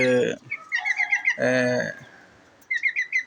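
Young Golden Heavy Buff chicks, one with a twisted neck, give short bursts of high peeping chirps in quick runs, close by, with brief gaps of quiet between.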